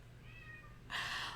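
A house cat meows once loudly and close, a bright drawn-out call that follows a softer, faint whine over a quiet room.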